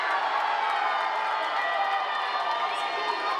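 Football fans roaring at Vila Belmiro stadium during a weekend amateur match, a steady, dense wall of crowd noise and cheering that holds at an even level throughout without breaks.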